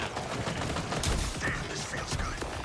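Dense, chaotic shotgun fire and combat noise from the Borderlands video game roar without pause, loud and cluttered, with a faint voice mixed in.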